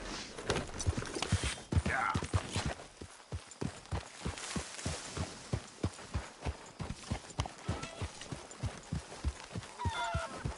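Steady clip-clop of horse hooves in the video game Red Dead Redemption 2, a regular walking rhythm close by and fairly prominent, with faint bits of talking in the background.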